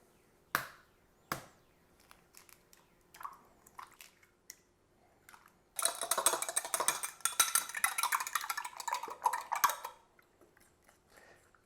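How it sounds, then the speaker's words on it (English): Spaetzle batter of flour, milk, salt and eggs is beaten in a bowl: a few isolated taps and clacks at first, then a dense run of rapid wet slapping strokes for about four seconds before it stops. "for the spaetzle batter, I'm just gonna basically beat this for about almost like 10 minutes"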